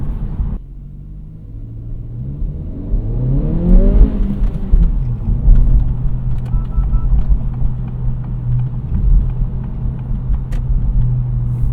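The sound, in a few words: Honda Integra engine revving while driving, traction control off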